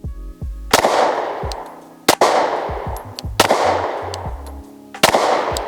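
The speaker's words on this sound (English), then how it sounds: "let me shoot a few more rounds" Four loud gunshots fired on a shooting range, each a sharp crack with a long booming echo, evenly spaced about a second and a half apart, no voices.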